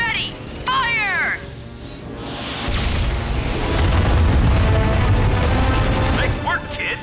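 A big sci-fi ion cannon, the Starwatch cannon from Ratchet & Clank, powers up with rising whirring tones and then unleashes a loud, rumbling blast that roars on for seconds, mixed with mechanical sounds and voices.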